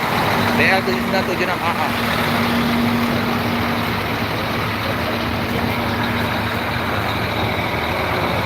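A Scania double-decker bus of the Sempati Star line idles while parked at a Palembang ticket office, a loud continuous engine rumble with a faint steady tone, while someone talks over it.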